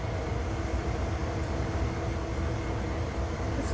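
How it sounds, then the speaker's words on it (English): A loud train in a video game, a continuous heavy rumbling roar with steady rolling noise throughout, close and constant with no pauses. "This train is loud as shit."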